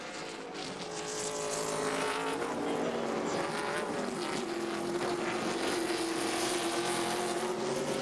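NASCAR stock cars roar at full speed down the straightaway at Infineon Raceway during the 2003 Snap-On Tools/Jelly Belly 200, a loud, steady engine drone with shifting pitch lasting throughout.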